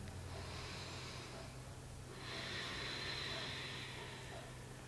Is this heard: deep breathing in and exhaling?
yes